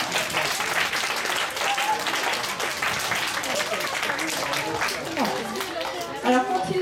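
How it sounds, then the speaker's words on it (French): An audience applauds a horse after a dressage-style bow at a castle show, a sustained burst of clapping mixed with crowd chatter and voices talking over it. "Oh, vous pouvez l'applaudir."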